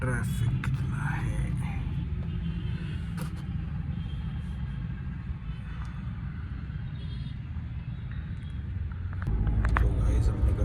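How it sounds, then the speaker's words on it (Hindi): Busy road traffic hums and rumbles steadily nearby, with a louder passing vehicle near the end and quiet talk over it. "इस सामने देखो ट्रैफिक कितना है"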